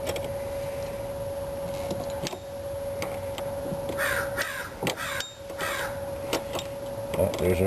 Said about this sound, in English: there's our buddies the crows